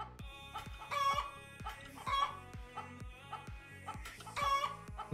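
Steady hen clucking from a chicken-catapult game, a rhythmic series of low clucks with repeated brighter squawks, close and moderately loud with no talking.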